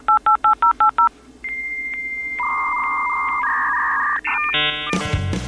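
Six short paired-tone telephone dialing beeps in quick rhythm, then sustained steady tones and a rising burst of mixed beeps as a radio show's phone line starts up, loud and clear with no talk.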